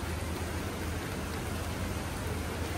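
Rain falls on garden leaves of Malabar spinach and curry plants, making a faint, even hiss of steady drops with no breaks and nothing else standing out.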